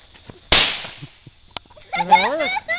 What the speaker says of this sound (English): This time follow the firecracker.